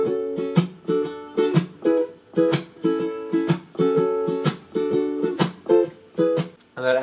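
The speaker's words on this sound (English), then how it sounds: "hit the strings with my nails and mute them with my palm of my hand. It's called a scratch." Rhythmic guitar strumming with sharp, muted percussive scratches between chords, strings hit with the nails and muted by the palm, a steady repeating pattern played up close.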